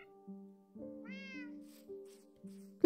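Minecraft cat meowing in the video game: a short, clear meow midway over steady quiet game tones, fairly faint and without any speech.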